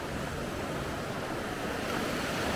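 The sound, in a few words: Sheep Creek water flowing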